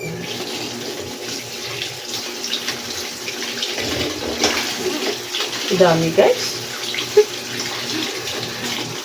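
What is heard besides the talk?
water draining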